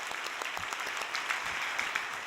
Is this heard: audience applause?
yes